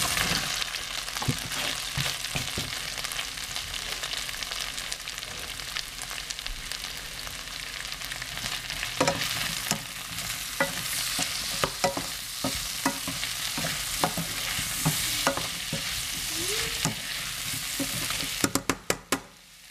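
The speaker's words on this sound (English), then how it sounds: "I'm going to melt the rest of the little butter, and then we're going to add the mushrooms and the garlic" Mushrooms and garlic frying in butter in a skillet, a loud, steady sizzle with frequent stirring scrapes and clicks of a utensil throughout, a cluster of sharper knocks near the end, no talking.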